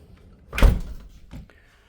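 A back door leading out to a small patio swings shut with one solid thud, then a softer knock and a faint latch click follow, close by and with no talking.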